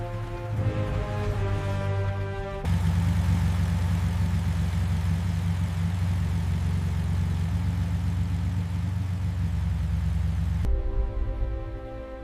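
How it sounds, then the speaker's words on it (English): Koenigsegg Agera supercar engine, an abandoned car under restoration, running steadily with a dense low rumble that swells suddenly after a quieter start, holds for several seconds, then drops back. "Against all odds, the engine came alive."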